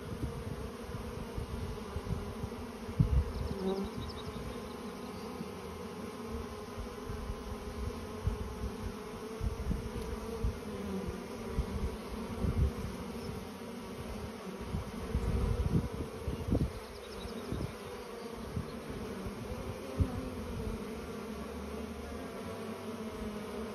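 Honey bees buzzing at a hive, a dense continuous drone close by with brief louder swells from passing bees and no talk.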